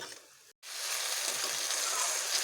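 Pointed gourd curry frying in a pan with a splash of water, a dense, steady sizzle that briefly cuts out and then comes back louder and keeps hissing, with no voices.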